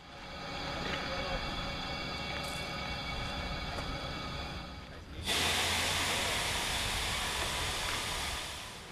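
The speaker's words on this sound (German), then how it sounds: "Unser Zug wird zur Weiterreise umrangiert." A train being shunted at Mora station in Sweden, a steady rumbling hiss that suddenly swells into a louder, brighter rush of air partway through and then holds, fairly distant.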